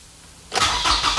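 A car engine being repaired after a botched shop job cranks briefly and catches straight away. It rises into a loud, rough idle that surges once, with no talking.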